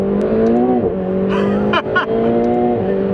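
A McLaren 720 supercar engine revs and pulls away, a loud close exhaust drone with rising and falling pitch and a couple of sharp bursts as it drives off.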